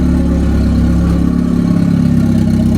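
A car engine idles steadily up close, a low continuous rumble with a slight uneven pulse, no voices over it. The engine is a modified Acura Integra with a big turbo newly installed.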